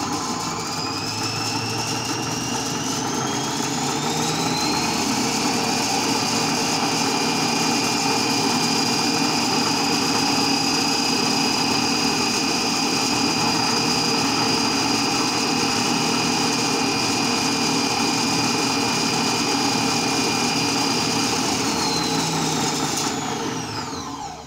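An electric "Udarnitsa" yarn winder rewinds a cone at its top speed of 2300. The motor whirs loud and steady, rising in pitch as it spins up, holding a constant high whine, then winding down at the end.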